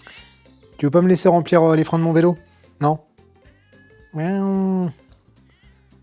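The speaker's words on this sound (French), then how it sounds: "c'est le chat des voisins" Neighbours' cat meowing insistently near a bike workshop, several loud close drawn-out meows in a burst and then one long plaintive cry, while someone talks to it in French.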